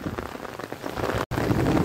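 Heavy rain pouring steadily during a hailstorm, a dense close hiss of drops on surfaces with a brief dropout near the end.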